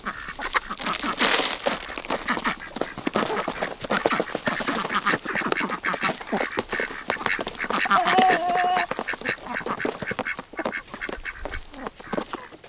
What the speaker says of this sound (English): we're taking this to these chickens, and they're so excited about their protein.